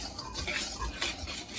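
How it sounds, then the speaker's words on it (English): Pancake batter being whisked in a bowl, a steady run of soft scraping, stirring strokes with light clinks of the whisk against the dish, fairly close with no talking. "Now we're going to whisk well to combine until the only color you can see is flour color"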